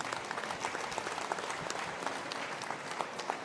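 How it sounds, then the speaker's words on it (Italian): An audience applauds the trainers at an event, a continuous, fairly even wash of many hands clapping, moderately distant and sustained throughout. "Un bel applauso ai formatori"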